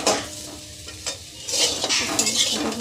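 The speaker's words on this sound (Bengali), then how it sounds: "আলুটাকে নেড়ে নেড়ে যতক্ষণ না আলুটা লাল লাল হয়ে যাচ্ছে" Potatoes fry in oil in a pan while a utensil stirs them. Close scraping and clinking against the pan sit over a hissing sizzle, which grows louder partway through.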